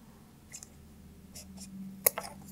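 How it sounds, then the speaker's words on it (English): Scissors snip a bead off a braided choker made from recycled material, a few faint, sharp clicks close by over a quiet room hum, with one brighter snip near the end. "And I am going to cut this bead off."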